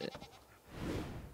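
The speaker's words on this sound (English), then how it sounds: "And it sounds like a sheep." An Ankylo in the video game ARK: Aberration gives a sheep-like bleat: a short, wavering call that rises and fades, close and fairly loud, with a brief earlier squeak.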